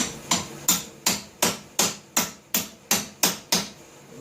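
A hammer taps a socket onto the rear PTO shaft of a John Deere 140 H1 garden tractor during a rebuild, about eleven sharp, evenly spaced metallic blows close by, with no talking.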